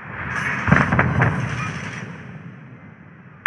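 Requested artillery fire landing in a video game: a loud rolling boom with several close crackling impacts early on, decaying into a long fading rumble, then a sharp click at the end.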